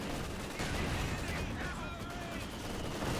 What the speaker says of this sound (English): Good mortar hits there, as well as mortar smoke.